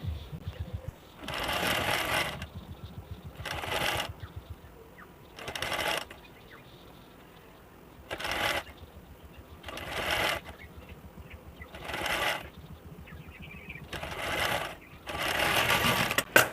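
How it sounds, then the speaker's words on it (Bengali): A sewing machine stitches a blouse sleeve onto the bodice with a half-inch seam allowance, running in repeated bursts of rapid, steady stitching separated by short pauses, close and loud with no talking. "এবারে আমি হাফ ইঞ্চি গ্যাপ রেখে প্রথমে হাতাটিকে সেলাই করে নেব"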